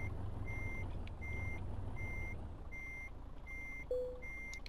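Steady repeating reversing beeps from a truck backing up in Euro Truck Simulator 2, evenly spaced tones over a low engine idle, with a short air-hiss near the end.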